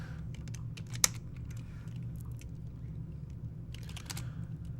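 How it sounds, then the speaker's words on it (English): Someone types on a computer keyboard in quick, close, scattered bursts of keystrokes over a low steady hum, with one sharper loud tap near the start. "I hit the wrong key on my keyboard"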